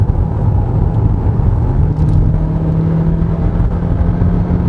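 A 2023 Hyundai Elantra Hybrid with a six-speed gearbox and a depleted battery drives a winding road, its engine giving a loud, steady, continuous drone heard from inside the cabin.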